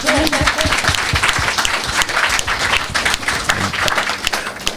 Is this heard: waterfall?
no